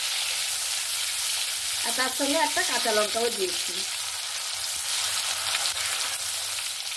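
Onion and tomato, with a green chili added, fry in a pan, giving a steady close sizzle that runs the whole time while a voice speaks briefly midway.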